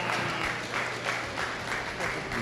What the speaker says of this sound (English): Let's give them all a real nice round of applause.